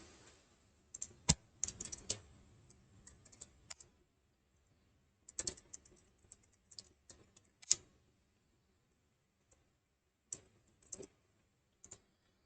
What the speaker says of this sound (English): So now let us first type the boilerplate code for popup.html.